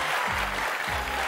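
A TV studio audience on The View claps, a dense, continuous wash of applause over the whole short stretch, with a voice talking faintly underneath.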